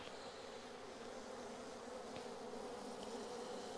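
A honeybee swarm clustered in a tree makes a steady, dense buzz that holds at an even level throughout, with no speech.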